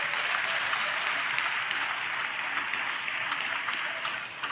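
A church congregation at a kneeling prayer service claps together in praise, a steady dense wash of hands lasting several seconds at moderate distance with no clear speech.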